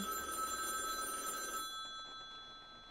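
A telephone bell rings in the courtroom game You Are The Judge, a bright repeated trill that sounds steady and moderately faint. It cuts off after about a second and a half, leaving quiet.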